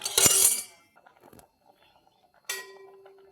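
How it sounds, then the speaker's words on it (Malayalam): Milk and rice for payasam are stirred in a pot, with a sharp metallic clink and scrape at the start, quiet faint rustling in between, and a second clink near the end. "പാല് നമുക്ക് ഇളക്കി കൊടുക്കാം."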